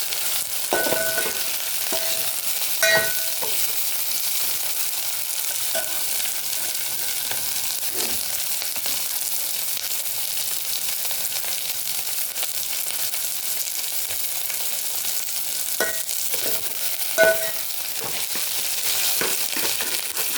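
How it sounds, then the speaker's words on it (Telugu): Kadai paneer frying on high flame, a dense continuous sizzle with occasional clinks and scrapes as it is stirred, close and steady throughout, no voices. "ఇలా 1 నిమిషం పాటు హై ఫ్లేమ్లో వేయించుకోవాలి. మధ్యలో ఇలా కలుపుకుంటూ ఉండాలి."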